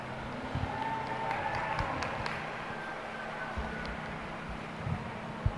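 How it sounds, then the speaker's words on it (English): Scattered applause from a crowd in a large, echoing space at a dairy goat show, steady and moderately loud over a low background hum. "give her a huge round of applause"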